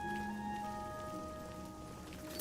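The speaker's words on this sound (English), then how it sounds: "Hey, it's raining." Steady rain falling in the video game Oblivion, a constant even hiss of drops on surfaces throughout, no talking.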